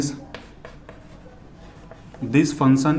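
A pen scratches across paper while a maths problem on function continuity is written out, producing soft, close, intermittent strokes that are then overtaken by a person talking.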